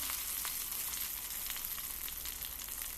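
Sliced onions fry in hot oil with cumin and curry leaves for an egg kulambu, a steady, close sizzle with faint crackles and no talking.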